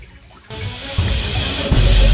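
Churning, sloshing water as someone wades chest-deep through a flooded cave, the noise swelling louder after a quiet start and continuing without speech.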